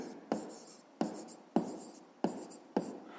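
Pen on paper while working a fifth-grade maths exercise: five short scratchy strokes in an uneven rhythm, each a sharp onset that fades quickly, close and fairly quiet with no talk.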